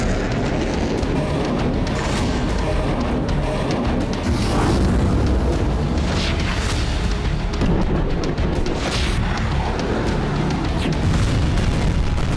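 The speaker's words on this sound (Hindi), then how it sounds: "चंद सेकंड में कई जगह धमाके, रात के अंधेरे में बारूदी धमाकों से निकलती आग।" Night-time artillery and rocket fire in a war zone, heard as a dense, continuous roar of booms and blasts that overlap with no quiet gaps, loud and saturated throughout.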